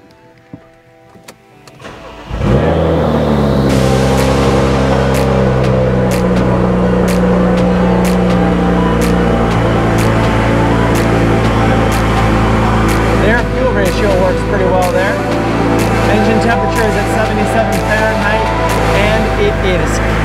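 A BMW Z4 with the N54 engine, after an overheating fix, starts with a sudden crank and catch, then settles into a loud, steady idle close by that runs for the rest of the stretch.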